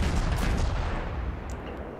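Heavy warship guns firing high-explosive rounds in the naval game World of Warships, a dense rumbling barrage of booms with no talk over it.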